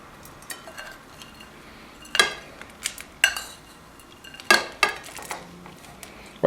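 Cooked pan-fried rice is scraped onto a plate with a utensil, making sharp clinks and scrapes of metal on dishware in scattered bursts against a quiet kitchen background.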